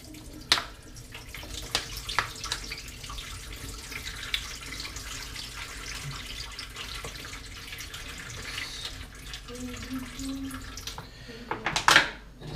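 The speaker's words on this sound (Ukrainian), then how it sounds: "Зливаємо розсольчик з качечки." Brine drained from a duck into a kitchen sink: a steady running trickle of water with a few sharp clinks and knocks of dishware, loudest near the end.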